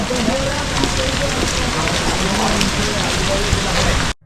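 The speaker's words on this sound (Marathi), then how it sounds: "एवढं ज्यादा पाऊस आणि घनदाट एकदम जंगल लागलेलं आहे आपल्याला." Steady heavy rain pours down continuously, a dense broadband hiss of drops falling through foliage, close and loud throughout before cutting off at the end.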